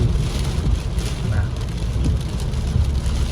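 Steady rain from Typhoon Noul falls on a house in Ubon Ratchathani, Thailand, in a continuous hiss, with a faint low rumble underneath and no voices.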